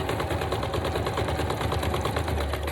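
A sewing machine zigzag stitching a fabric cover for a junk journal, a steady, close, continuous whirring rattle with a rapid even rhythm and no talking.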